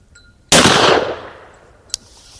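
A single loud, close gunshot from a Rossi Brawler firing a .45 LC 265 grain round, a sharp blast that rings out and decays over about a second, followed by a faint metallic click.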